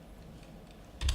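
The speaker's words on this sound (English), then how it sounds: "I'm going to type in here" Quick burst of typing on a computer keyboard, a few soft clicks after a quiet stretch, close and alone.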